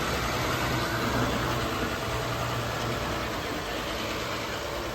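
The engine of a 1959 Chevy truck runs with a steady, rough rumble that stays constant and loud, with no voices over it.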